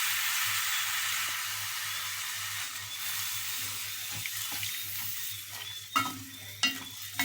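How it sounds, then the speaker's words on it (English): Black-eye beans and mushrooms get stirred in a hot frying pot for Trinidadian cook-up rice, a steady close sizzle with soft scraping, and a couple of sharper clanks from the spoon near the end. "So we mix this around even more."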